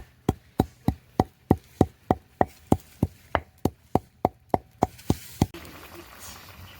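Soaked whole spices are pounded on a traditional grinding stone, about sixteen sharp, evenly paced thuds close by over roughly five seconds, followed by a quieter scraping tail.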